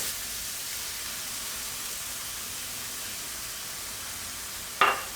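Onion and egg frying in a hot pan for pineapple fried rice, giving a steady, close sizzle throughout with a brief clink near the end.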